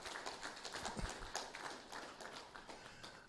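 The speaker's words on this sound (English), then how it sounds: "Let us give them a round of applause." Audience applause at a commemorative two-dollar banknote launch for the Eastern Caribbean Central Bank, a faint, steady wash of many hands clapping from a distance, sustained throughout.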